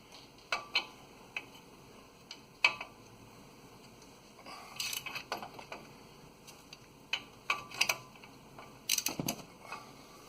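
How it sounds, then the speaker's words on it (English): A big ratchet works on the front differential of a 2005 Dodge Dakota, giving sharp metallic clicks in irregular bursts, close and fairly crisp, with some clanks of tools. "We probably use that big ratchet"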